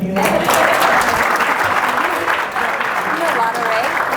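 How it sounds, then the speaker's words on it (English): Audience applause at a fireside chat event in New York, steady dense clapping filling the room throughout, with some voices and cheers mixed in. "Let's clap it up for him"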